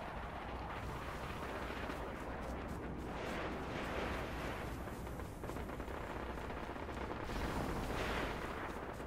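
Continuous video game gunfire and explosions in an objective-zone battle with vehicles, a dense, loud, unbroken wash of rumbling blasts and crackling shots without pause, no talk.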